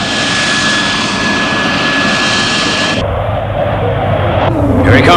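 A jet aircraft flies past at speed with a loud, steady roar and a high whine, then the sound cuts abruptly to a lower, rougher rumble that swells again near the end.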